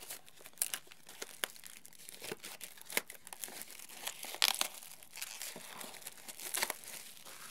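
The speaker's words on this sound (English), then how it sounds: "Mini cellophane bit." Cellophane wrapper being peeled and crumpled off a CD album: close, irregular crinkling and tearing bursts over several seconds, with no voices.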